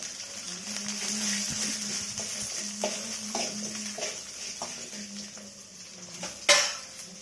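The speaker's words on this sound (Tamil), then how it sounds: "இது நல்லா வந்து கோல்டன் ப்ரௌனாக வர வரைக்கும் வதக்கி விட்டுக்கலாம்" Ingredients for a roadside-style mint chutney being sautéed in a pan until golden brown: a spoon clinks and scrapes against the pan in scattered strokes over a low background, ending with a sharper metallic knock, no talking.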